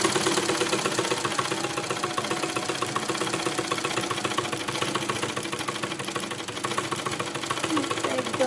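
A sewing machine freshly oiled by a tailor runs in a steady, continuous mechanical rattle and hum, close and fairly loud throughout, with a voice talking over it.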